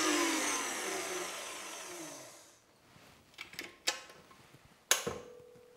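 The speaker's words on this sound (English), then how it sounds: "I'm going to beat them on fairly low until they are fluffy." An electric mixer beats egg whites for macarons on fairly low speed, a steady whirring hum for a couple of seconds that cuts off, followed by a few light clinks and taps.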